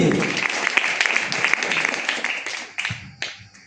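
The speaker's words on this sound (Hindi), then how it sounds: "मैं चाहूंगा एक बार जोरदार ताली होनी चाहिए" Audience at an income-plan presentation giving a burst of applause, dense clapping that starts loud and thins out over a few seconds into scattered last claps.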